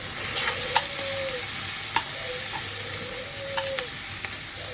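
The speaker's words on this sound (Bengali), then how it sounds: "এখন আমি উপকরণে পেঁয়াজ আর তেল দিয়ে নিলাম।" Onion frying in hot oil gives a steady, close sizzle, with a few sharp spatula scrapes and taps against the pan at irregular intervals and no speech.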